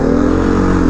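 A 2021 Beta 480RR dirt bike engine runs at steady high revs on a mountain trail, a loud, close, continuous buzzing drone with no pause.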